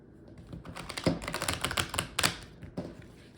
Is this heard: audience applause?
no